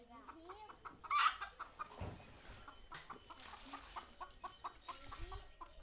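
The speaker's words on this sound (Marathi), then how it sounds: "ही कोंबडी. कोंबडी आहे" A hen clucks repeatedly in short, soft bursts close by in a village, with brief human voices in the background.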